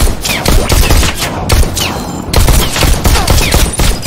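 Gunfire from shooting targets in the Robo Recall VR video game, rapid bursts of loud shots firing in quick succession with a brief pause midway, close and dominant.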